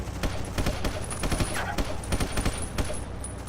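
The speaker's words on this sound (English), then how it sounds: "I'm going to bust out the good old Mat 49 submachine gun" Rapid bursts of submachine gun fire from a MAT-49 in the Vietnam War shooter Battlefield Vietnam, loud and close with dense repeated cracks over a steady background rumble.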